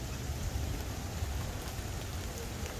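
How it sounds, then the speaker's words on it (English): Heavy rain pours steadily in Florida ahead of Hurricane Ian, a dense, continuous hiss of drops with a deep rumbling wash underneath and no voices. "it's raining pretty heavily"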